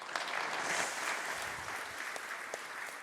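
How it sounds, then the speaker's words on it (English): Spontaneous audience applause fills a conference hall, a dense, steady wash of many hands clapping at moderate loudness throughout, with no voices over it. "There's nothing like a spontaneous applause, don't you say?"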